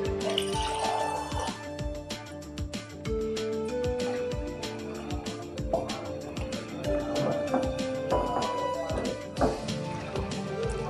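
Water is poured into a pot of cooking chicken nihari masala, an uneven splashing pour with drips, heard up close over light kitchen clatter.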